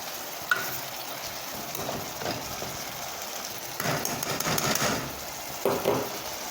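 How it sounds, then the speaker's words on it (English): Hot pepper sautéing in a pan for Jamaican ackee and saltfish, a steady close sizzle with brief bursts of stirring and scraping against the pan, no talking. "So I'm just going to saute this for a few minutes"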